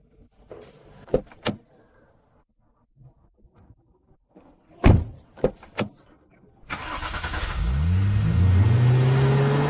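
A car outside: a few sharp door and latch clicks in a quiet space, then the engine cranks and starts and revs steadily as the car pulls away, loud and close.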